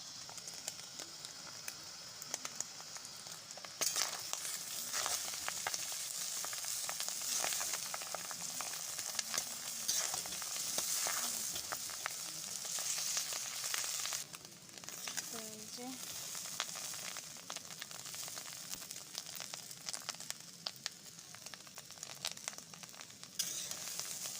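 Chowmein noodles stir-frying in a pan, a loud continuous sizzle with scraping and tossing bursts over about twenty seconds, a brief pause midway, and a voice talking at times.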